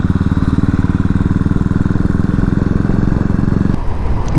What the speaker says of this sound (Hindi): बाइक ने थोड़ा प्रॉब्लम दिया, शायद कार्बोरेटर में कचरा गया है कि पता नहीं, पर होपफुली यू नो शुरू हो गई